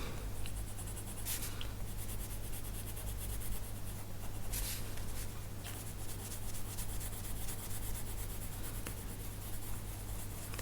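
Pencil shading scratches steadily across watercolor paint in a colouring book, a close, continuous grainy rubbing with small strokes and taps and no voices.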